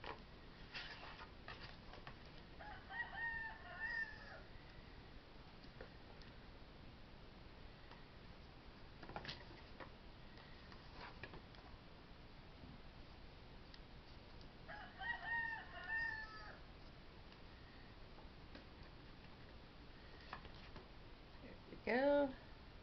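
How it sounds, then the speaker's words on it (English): A rooster crows outside an open window several times, faint and distant, under a person talking nearby while some light tapping and handling noises go on. "You might be able to hear my rooster. He's out there crowing."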